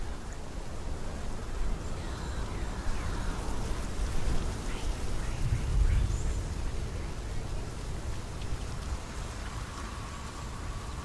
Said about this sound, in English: Why is it so rainy out here, man?